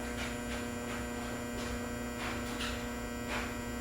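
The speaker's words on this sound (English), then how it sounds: "that's the dryer" A clothes dryer running in a home, a steady low hum with a faint electrical buzz, continuous and even throughout.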